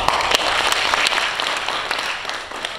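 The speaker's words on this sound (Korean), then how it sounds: "박수를 세게 치시면 더 감사합니다. 다시 한번 박수." An indoor church-style audience claps hard at a homelessness-policy gathering, sustained full applause with a few sharp individual claps standing out, staying loud throughout and easing only slightly near the end.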